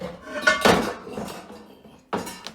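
An iron skillet clanks and scrapes against a hard surface in a few short metallic knocks, close and fairly loud, with quiet gaps between them.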